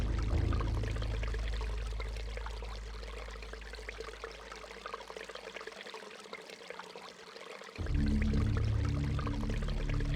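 Steady flowing, pouring water in the Eternal Darkness video game, a continuous rushing stream with a low droning undertone that briefly thins out and then returns fuller, heard alone without talk.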